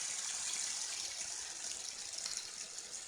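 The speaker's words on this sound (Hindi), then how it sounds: "थोड़ा सा पानी डालूंगी लौकी गलाने के लिए," A small amount of water, about a quarter cup, poured into a pan of bottle gourd and chana dal curry with spices, heard as a quiet, steady gushing splash that fades slightly at the end.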